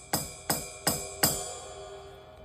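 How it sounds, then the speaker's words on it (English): Ride cymbal on an electric drum kit struck four times at an even, moderate pace, each hit a bright close ping with a shimmering ring that lingers and fades after the last stroke. "Now the ride cymbal sounds something like this."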